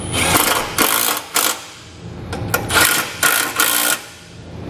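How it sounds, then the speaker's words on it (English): A 13mm socket wrench tightens trailer hitch bolts in a series of loud, close bursts of ratcheting clicks, each lasting about half a second and separated by brief pauses. "grab our 13mm socket and tighten up all 4 bolts"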